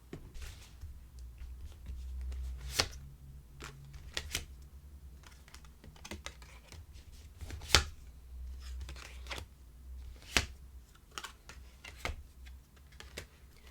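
Tarot cards are shuffled and handled at close range, giving a soft continuous riffle of papery flicks with several sharper snaps and taps, and no talking.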